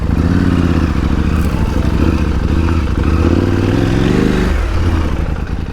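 A KTM 890 Adventure R motorcycle engine runs loud and close on a track, a steady throbbing roar with shifting low tones that drop off briefly near the end.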